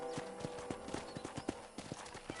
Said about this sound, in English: I picked out a fine horse for